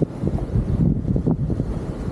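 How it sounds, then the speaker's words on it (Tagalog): Steady, heavy wind and rain buffeting the microphone with a low, continuous rumble, gusting throughout with no voices. "Panay ulan pa rin at medyo malakas ang hangin"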